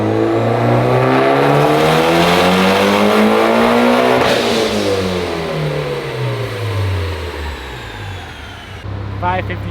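Mitsubishi Evo X tuned to about 550 wheel horsepower revving hard on a dyno, engine pitch climbing steadily to a peak, then falling away as it winds down, loud and close.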